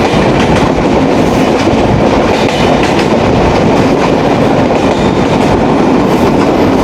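A passenger train on the Khulna to Rajshahi route rumbles steadily along the rails near Darshana Junction, a loud continuous roar with faint clickety-clack from the wheels throughout.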